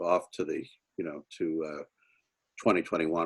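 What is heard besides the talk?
No everyday noise stands out behind the speech.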